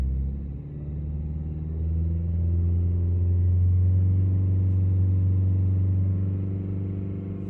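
Toyota ProAce van's diesel engine held at 3000 RPM, a steady loud droning rumble with a deep tonal hum that swells slightly midway, heard up close with no talk.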